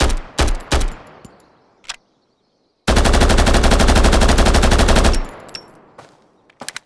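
Rapid automatic gunfire in the video game Road to Vostok, with a few loud single shots up front, then a sustained burst of about two seconds and scattered shots trailing off, close and loud with no talk.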